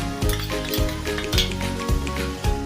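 Chicken with salt and kasuri methi being stirred in a pressure cooker: soft sizzling under a series of rhythmic scraping strokes of a spoon against the metal pot, roughly one every half second, close and clear.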